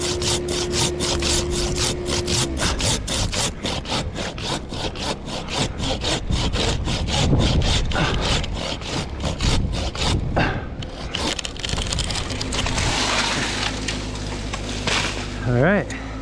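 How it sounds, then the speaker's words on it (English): A handsaw cuts through dead tree wood in quick, even back-and-forth rasping strokes for about ten seconds, then stops and gives way to rustling and a faint voice. "I'm just gonna finish that with my handsaw"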